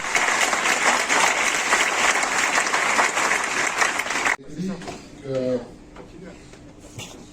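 A literary event audience claps loudly for a few seconds, then the applause cuts off abruptly and a voice begins speaking in a quieter room.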